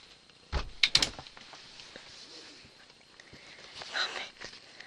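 A door clicks and rattles open with a couple of quick knocks and latch sounds, followed by a faint creak or scrape a few seconds later.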